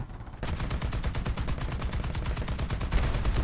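Rapid automatic gunfire from a War Thunder Mobile battle, a dense, steady burst of repeated shots that starts after a brief quiet moment and keeps hammering loudly to the end, with no talking.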